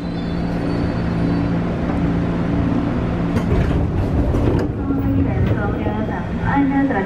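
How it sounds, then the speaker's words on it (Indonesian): An Argo Wilis train pulls into Klaten station, a steady heavy rumble with rising mechanical noise and a couple of brief tonal squeals or horn-like notes, beneath continuous station and platform ambience. "Oh, sebentar lagi akan ada kereta api Argo Wilis."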